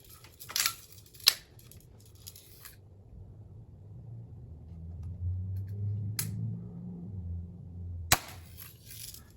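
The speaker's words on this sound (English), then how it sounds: "We are shooting Umarex 177 caliber steel BBs." An air-powered BB gun firing Umarex .177 caliber steel BBs gives a few sharp, isolated snaps spaced several seconds apart over a faint low rumble outdoors.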